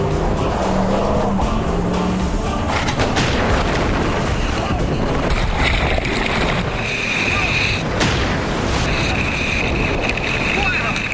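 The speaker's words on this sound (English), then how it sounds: "The plan works to perfection as the car pitches nose first and then settles roofside down." A car drives off and pitches nose first into water, a loud, continuous churning roar of splashing and rushing water with wind buffeting the microphone and occasional thuds, heard close and unbroken throughout.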